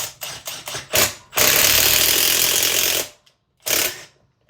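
A BeadBuster tire bead breaker is cranked with a ratchet, giving several quick metallic ratcheting bursts, then a sustained loud grinding crank and one last short burst, close and alone.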